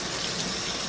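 Tap water runs steadily into a sink for hand washing in a home kitchen while steak fries cook, a constant close gushing hiss with no talking.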